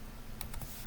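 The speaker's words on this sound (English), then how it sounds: "wonky typing there" A few sharp, irregular clicks of computer keys being typed, close and fairly quiet, spaced unevenly over less than a second with no talking.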